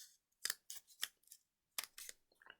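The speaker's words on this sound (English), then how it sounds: "You do need scissors for this." Scissors snip through origami paper in quick, close, crisp cuts, several clustered strokes separated by short pauses in a quiet room.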